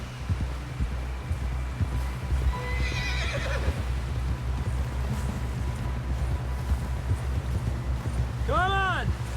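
In the Red Dead Redemption 2 video game, a horse gallops with a steady rapid clip-clop of hooves, then lets out a clear whinny near the end, while voices talk faintly beneath.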